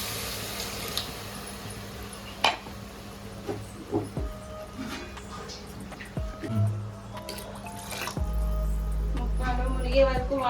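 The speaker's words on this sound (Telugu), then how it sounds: "ముక్కలు మునిగే వరకు వాటర్ పోతుంది." Water poured over pieces of goat head in a pot for a mutton head curry, a running splashing stream with clatters and knocks from the cookware, growing louder toward the end.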